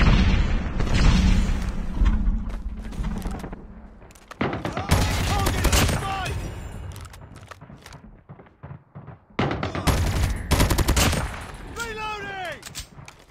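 Heavy gunfire bursts and booming blasts, including a grenade explosion, in a Call of Duty Mobile match with an M4 rifle; loud rapid volleys come in several clusters with brief lulls, and game voices are heard in between.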